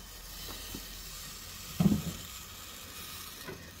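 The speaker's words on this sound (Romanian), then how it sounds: "adăugăm o altă cratiță, unde vom veni cu circa 5 linguri de ulei" About five spoonfuls of oil heating in a pan, a soft continuous sizzle under faint background hiss, with one brief louder crackle midway.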